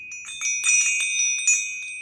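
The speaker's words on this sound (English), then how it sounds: "I've got a set of bells. They're really, really heavy" Several heavy, solid brass bells are handled, ringing out in a cluster of bright, sustained tones with a few jangly strikes overlapping across two seconds, close and fairly loud.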